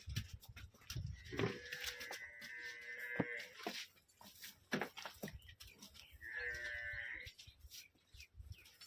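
A freshly calved water buffalo at a village farm near Batala, Punjab, lets out two drawn-out, nasal moos, separated by shuffling and scattered farmyard noises nearby.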